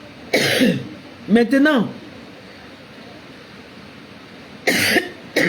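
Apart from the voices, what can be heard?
coughing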